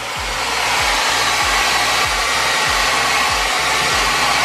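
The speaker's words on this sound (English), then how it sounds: "look at that heat gun. It's powerful." A powerful heat gun blows continuously at close range while warming a car badge on a Toyota Celica GT4, a loud steady whooshing roar with a low rhythmic pulsing underneath.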